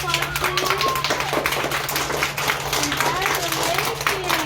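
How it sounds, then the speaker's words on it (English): An audience at a school assembly applauding, dense continuous clapping filling the room with a steady hum underneath and voices and cheers rising through it. "Can you give her a big round of applause, please?"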